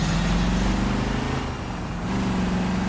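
A steady car engine drone in the video game L.A. Noire, with a low, buzzing hum, dipping briefly before rising again, loud and continuous like a car cruising along.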